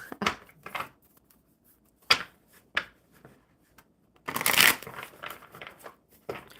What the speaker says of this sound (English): One more shuffle for Duncan.